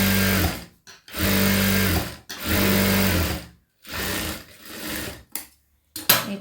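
A sewing machine stitches a blouse side seam in several bursts of steady, loud motor whir, with brief pauses between runs and short stops near the end.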